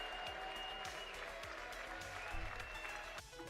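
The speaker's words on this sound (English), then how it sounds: "the applause is trying to drown out the boos." Crowd applause mixed with boos in The Outer Worlds video game, a faint steady wash of clapping with some low jeering underneath.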